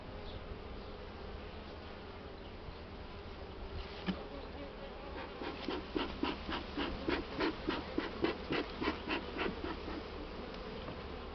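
Honey bees hum steadily around an opened hive of a swarmed colony, a dense close drone with rising pulsing buzz bursts as the bees stir, no voices.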